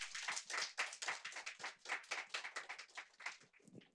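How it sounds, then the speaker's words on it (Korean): An audience claps to open the 2020 GNLC (Global Network of Learning Cities) results-sharing event in Korea, many hands in a fairly quiet, rhythmic burst of distinct claps that swells and tapers toward the end. "박수 부탁드립니다"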